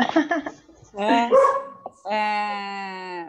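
A few short dog barks and yips up close, followed by a longer drawn-out whine or howl.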